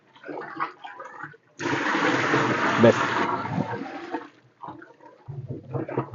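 Jiva amrit mixture of cow dung, cow urine, water, gram flour and jaggery, stirred clockwise in a container, making a loud sloshing, churning rush for about three seconds, with brief speech before and after.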